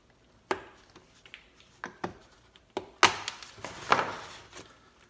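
A knife cuts and snaps at a plastic childproof safety cap on a fluid reservoir in a Honda Accord engine bay, giving a series of sharp, close clicks and taps spread unevenly across the moment.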